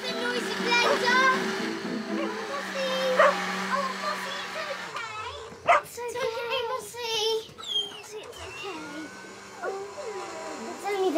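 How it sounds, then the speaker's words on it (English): A dog barks and yips in short bursts amid a steady whirring blender drone, with people talking over parts of it. "I think Mossy's barking at something outside"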